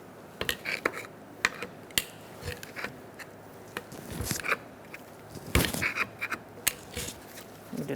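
Pry bar working a bent-over engine mount bracket off a 2004-2009 Mazda 3 2.3L, scattered sharp metallic clicks, knocks and scrapes at irregular intervals, close and moderately loud.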